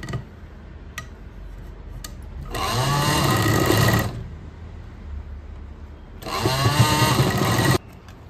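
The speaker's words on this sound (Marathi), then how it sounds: "ह्या कपड्याला सुद्धा आपल्याला अशी शिलाई मारून घ्यायची" Sewing machine stitching saree fabric, two short bursts of rapid mechanical whirring and ticking, each about one and a half seconds, separated by quiet clicks and handling noises, close by.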